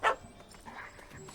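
A puppy in the video game The Witcher 3 Hearts of Stone lets out a single sharp, high bark at the start, followed by faint whimpering noises over quiet background ambience.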